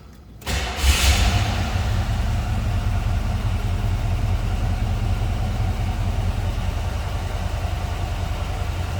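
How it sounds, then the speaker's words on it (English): A 1970 Buick Electra 225 Custom Convertible engine starts with a brief crank and then settles into a steady, even idle, running continuously and fairly close. "Let's fire it up so you can hear it run"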